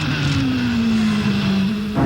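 Onboard with Nigel Mansell at Surfers Paradise, a turbocharged Indy car engine drones loudly and steadily, its pitch sliding gradually lower as it lifts off, with a rise in power near the end.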